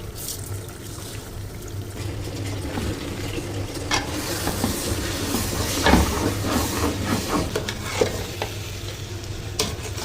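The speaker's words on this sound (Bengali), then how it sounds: "খুবই সাবধানে নাড়াচাড়া করছি, কারণ ডিম খুলে যাওয়ার সম্ভাবনা আছে, যদিও ভেজে দিয়েছি।" Fried eggs are stirred gently in a sizzling pan, soft scraping and steady frying hiss running continuously with occasional clinks, no talking.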